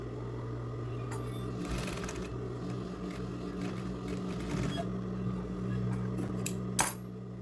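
A sewing machine stitches a whale-shaped fabric pouch, running with a steady close mechanical hum and rapid needle clatter, with a few small metallic clicks and a brief sharp knock near the end.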